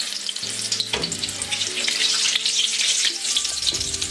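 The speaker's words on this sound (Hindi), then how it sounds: "अब हम बैगन को इस बैटर में डिप करके फ्राई करते हैं।" Batter-dipped eggplant slices frying in hot oil in a kadhai for pakoras: a steady close sizzle and crackle with some tonal hums and clinks underneath, no voices.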